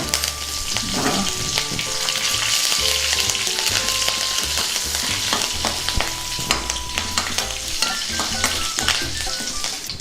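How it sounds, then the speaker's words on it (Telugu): Dried red chillies and curry leaves fry in hot tempering oil for a pickle, producing a loud, close, continuous sizzle with crackling pops and occasional stirring scrapes. "ఇందులోనే కొద్దిగా ఎండుమిర్చి వేసుకుందాం. అలాగే కరివేపాకు వేసుకుందాం."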